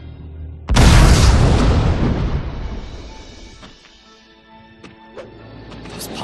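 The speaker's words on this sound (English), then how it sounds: "This pumpkin bomb sure came in handy." A pumpkin bomb explodes in Spider-Man: Friend or Foe, a sudden loud, close boom with a roaring burst that slowly fades over several seconds, followed by faint clicks and game sounds.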